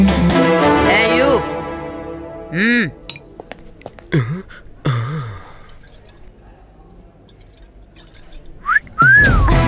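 A person whistles several short rising and falling notes, with brief pauses between them, then one last quick whistle near the end.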